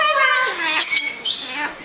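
Parrots at a parrot preserve screech and chatter in loud, close, overlapping calls with bright rising and falling squawks that fill the space continuously.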